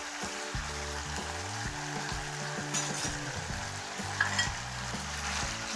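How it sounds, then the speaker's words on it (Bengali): Soybean mixture with curd and a spoonful of tomato sauce sautéing in hot oil, with a steady dense sizzle and scraping spoon strokes throughout, alongside a low tonal hum. "তেল ছাড়া পর্যন্ত কষিয়ে যাব।"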